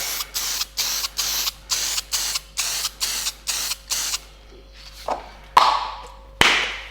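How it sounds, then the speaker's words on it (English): About a dozen short aerosol spray bursts of homemade superhydrophobic coating onto acrylic in an even rhythm, then a pause followed by a few sharp taps and a longer hiss. "it should just be a case of giving the acrylic a nice spray"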